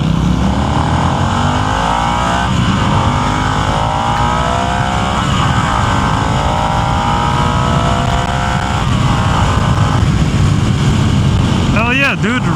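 A Harley-Davidson Nightster motorcycle engine roars under hard acceleration, loud and sustained, with rev rises and gear changes while riding, plus wind noise, with no speech.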